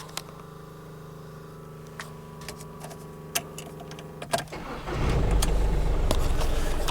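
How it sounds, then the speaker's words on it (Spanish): A VW Lupo 1.2 TDI 3L diesel sits with a faint electrical hum and a few soft clicks before the starter kicks in about two thirds through, and the engine fires into a loud, rough idle nearby. "Ahora arrancamos el motor."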